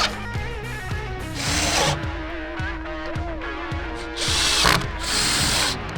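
A power driver sinks self-tapping screws through small brackets into wooden beams, whirring and rising in pitch during each drive, with clicking and clatter between bursts, close and fairly loud, no speech.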